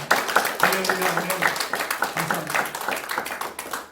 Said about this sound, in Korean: 우리 주님 앞에 영광의 박수 한번 같이 한번 힘차게